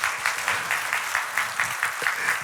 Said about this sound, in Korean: 우리 수고한 청년들에게 박수 좀 드리겠습니다.